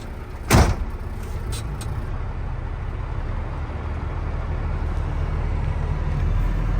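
A Kenworth KW 880 truck at a landfill: one sharp, loud door-like thud near the start, then a constant low engine drone that holds steady and grows slightly louder, with no voices.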